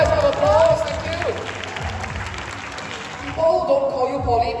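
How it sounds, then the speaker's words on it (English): An audience in a hall claps together at a talk-show-style event, a dense burst of applause mixed with crowd voices and a brief cheer, moderately loud and steady, with a voice speaking over the clapping. "Please give him a nice round of applause."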